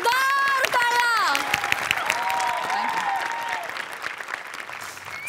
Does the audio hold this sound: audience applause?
yes